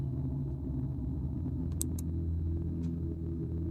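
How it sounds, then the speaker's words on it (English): Thunder in the indie horror game The Gardener, heard as a low, continuous rolling rumble at moderate volume with no voice over it. "Rumble of thunder."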